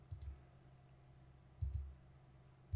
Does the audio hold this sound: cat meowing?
no